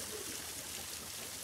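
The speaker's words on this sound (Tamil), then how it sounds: "இந்த அருவி பேர் என்னென்னா சில்வர் ஃபால்ஸ்" Silver Falls waterfall in Kodaikanal pours as a steady, broad rushing hiss of falling water, constant and unbroken throughout the brief moment.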